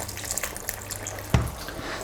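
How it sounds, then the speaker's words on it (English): Water poured into a cooking pot holding lamb shanks, heard as a soft close trickle and splash with one brief louder plop, no talking. "Might just add a little bit more liquid water."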